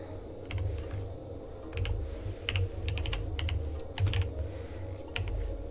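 Rapid clicking keystrokes on a computer keyboard in short irregular bursts over a low steady hum, close and moderately loud with no talking.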